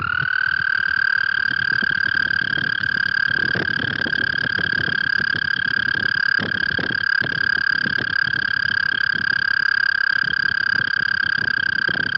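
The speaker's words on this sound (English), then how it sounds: "let's listen together to this toad calling so you know what to listen for" A toad gives a long, steady high trill that runs unbroken through the whole stretch, loud and close, with faint outdoor background beneath it and no voices.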